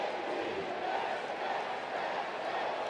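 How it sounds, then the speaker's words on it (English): A home crowd at a Dodgers vs Nationals baseball game roars and cheers in a sustained, dense wall of voices, loud and continuous from start to finish. "Gives this home crowd a little bit something to cheer about."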